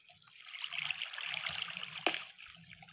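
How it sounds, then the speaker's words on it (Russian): Water trickles and flows in Minecraft Pocket Edition, a continuous soft splashing stream with faint game clicks, heard alone at low volume. "О, вода!"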